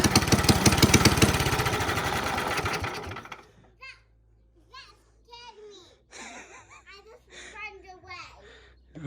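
A small go-kart engine being started, its rapid mechanical chatter loud and close for about three seconds before cutting out, followed by quieter clicks and people talking.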